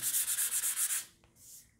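320-grit sandpaper is worked over primer on a fibreglass wing mould in about eight rhythmic, close, raspy strokes, followed by a brief pause and one softer scrape.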